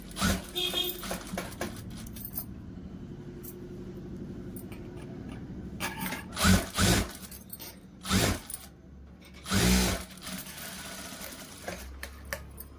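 A sewing machine stitches a blouse in short, separate bursts of rapid needle clatter, with quiet handling and rustling of fabric in the pauses between runs.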